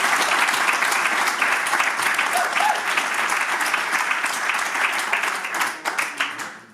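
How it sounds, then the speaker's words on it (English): A room full of golf club members at a County Armagh Presidents Day dinner applauds loudly for nearly seven seconds, the dense clapping thinning out at the end. "that alone merits a round of applause"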